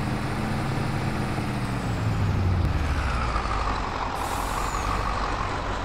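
Lorry in Farming Simulator 22 with a steady, loud diesel engine drone, a sharp air-brake hiss and faint reversing beeps as it manoeuvres; no talk.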